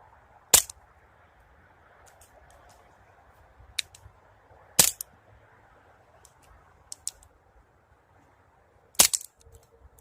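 Three sharp, loud shots from a Sig Sauer BB air pistol fired outdoors, spaced about four seconds apart, with faint clicks of handling between them over near-silence.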